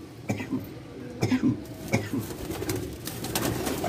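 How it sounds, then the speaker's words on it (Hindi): Soft, low pigeon coos repeat a few times at close range, mixed with rustling and a steady background murmur. "तो ये कबूतर दिखा देता हूँ"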